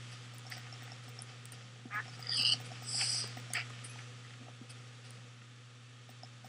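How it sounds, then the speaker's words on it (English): A duck quacks in the Minecraft Technic modpack game, a few short quacks around the middle over a quiet steady hum. "That was a duck."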